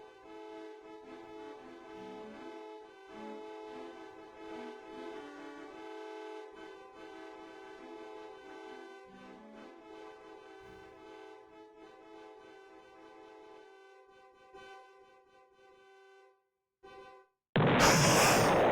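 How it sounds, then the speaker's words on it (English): A video game vehicle horn toots out a melodic tune in clear, steady pitched notes, fading near the end before a sudden loud burst of noise cuts in. "I'm sorry, I'm listening to the honk melodies."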